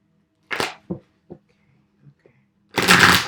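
Tarot cards are shuffled close up in several short crisp riffles with quiet gaps between them, then a longer burst of shuffling at the end.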